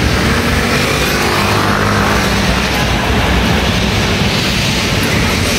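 Dense road traffic roars steadily on a hot day along a street in Singapore, a loud continuous rumble of passing vehicles with no break.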